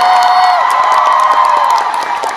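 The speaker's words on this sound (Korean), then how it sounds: "일단 미리 큰 박수" A loud festival concert crowd at Seoul Jazz Festival cheers, whoops and applauds in a dense, sustained roar, with high shouts riding over steady clapping.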